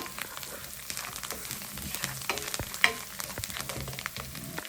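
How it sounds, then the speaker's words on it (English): Garlic and parsley sautéing in a pan for salmon pasta, a continuous close crackling sizzle with scattered pops and light stirring clicks, no talk. "Now we're gonna saute this, guys, just to kind of slowly release the flavor of them garlic and the parsley"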